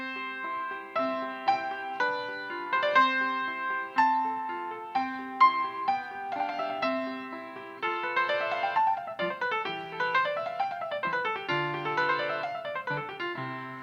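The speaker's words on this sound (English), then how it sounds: "if a classical pianist plays the Mozart Piano Sonata in C" Piano playing Mozart's Piano Sonata in C in classical style, a clear melody over a light accompaniment giving way to rippling scale runs, moderately quiet and with no voices.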